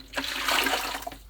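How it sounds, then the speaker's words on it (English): Hot water scooped from a big saucepan and poured into a bucket in a remote alpine hut, a short loud splash and gush of water heard close up. "Take hot water from the big saucepan into this bucket."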